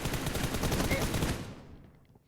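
Rapid burst of automatic gunfire in the battle royale game PUBG, dense and loud for over a second before trailing off into a fading echo; a voice briefly mixed in.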